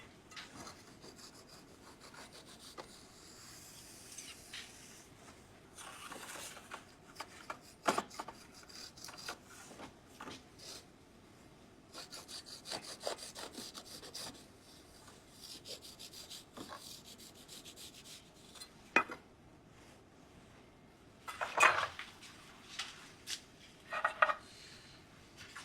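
A knife scrapes and cracks around the hard baked salt crust of a salt-baked sea bass, giving scattered rasping scrapes and sharp crunches, fairly quiet and close, with no talking.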